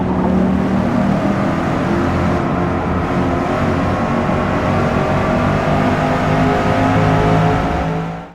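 A racing car engine in the Forza Motorsport 8 video game drones loudly and steadily throughout, a dense, continuous roar with no pauses or talk.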